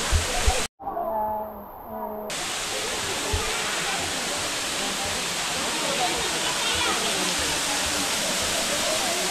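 Batlag Falls pours in a steady, dense hiss of rushing water that fills the scene after a brief cut, with a voice speaking briefly over it at the start.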